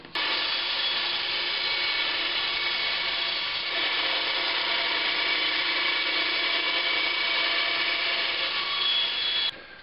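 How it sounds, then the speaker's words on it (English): A bandsaw cutting through plastic for a lawn chair cup holder, giving a steady, continuous high-pitched rasping whine for nearly ten seconds before stopping abruptly, close and moderately loud with no voices. "I think I'm going to use the bandsaw."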